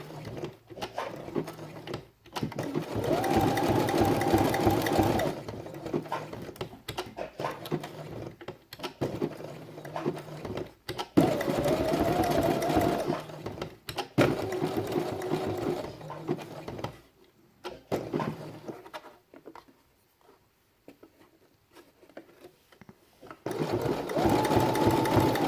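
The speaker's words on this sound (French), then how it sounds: "et nous allons piquer au point zigzag" Sewing machine stitching a 2.5 mm wide, 1 mm long zigzag stitch around a felt quiet-book page, running in several loud steady bursts separated by short pauses.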